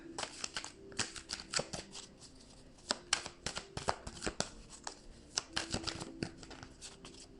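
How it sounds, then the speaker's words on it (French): Tarot cards shuffled and drawn by hand, a quiet close series of crisp riffling flicks and snaps in uneven bursts, with soft handling sounds between them and no talking. "On va prendre une dernière carte."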